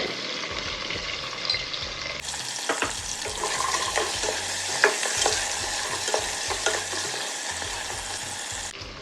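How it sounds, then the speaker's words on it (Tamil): Onions with a little salt sautéing in hot oil for a country chicken gravy, a steady close sizzle broken by repeated spatula stirring scrapes and taps, with no talking. "இப்போது வெங்காயம் சேர்த்துக்கிறேன். இந்த வெங்காயம் வதங்குறதுக்காக கொஞ்சம் உப்பு"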